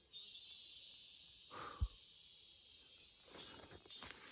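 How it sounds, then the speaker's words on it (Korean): Cicadas drone in a steady, high-pitched wash across a pine forest, with one brief thud and faint rustling underneath. "매미는 울고 있습니다"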